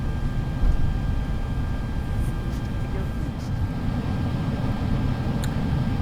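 FSLabs A320 airliner in the Prepar3D flight simulator, a steady broad engine rumble and whine with faint tonal hums, even and continuous at moderate loudness.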